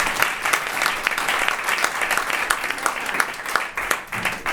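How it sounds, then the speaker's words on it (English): A festival audience applauds after a storytelling performance, dense clapping from a sizable crowd that stays steady and fairly close for several seconds. "A round of applause for Ezra and her amazing technical skills."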